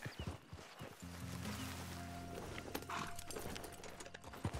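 A horse in the Red Dead Redemption 2 video game, with hoof clip-clops and a whinny over faint game ambience, heard fairly quietly with no speech.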